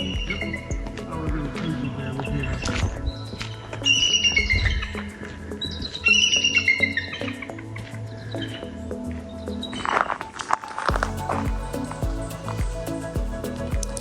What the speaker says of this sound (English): Mr. Bald Eagle.